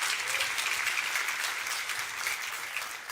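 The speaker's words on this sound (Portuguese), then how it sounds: "dá uma salva de palmas" A church congregation claps together in a steady, moderately loud round of applause that holds for a few seconds and then eases slightly toward the end.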